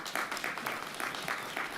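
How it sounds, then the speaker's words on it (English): Applause from an audience at a televised town hall on HBCUs, honoring the event partners: a steady, dense wash of many hands clapping at moderate level, with no talk over it. "let's give a round of applause to all of our partners for their time and effort today"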